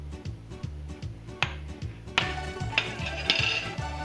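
A utensil stirs turkey gravy in a pot, with scattered light clinks and scrapes against the metal over a steady low rhythmic hum, fairly quiet and close.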